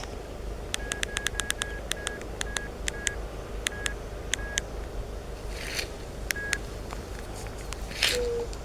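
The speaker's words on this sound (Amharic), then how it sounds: "ትንሽ ጠብቁኝ፣ እንደውልላት።" A series of short electronic dialing beeps, tapped in an uneven rhythm, over a quiet room hiss, with a brief rustle near the end.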